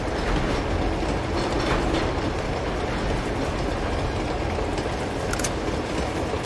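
A moving train in the video game Uncharted 2: Among Thieves, a loud continuous rumble with rhythmic clattering and metallic rattles that stays steady throughout, with no talking.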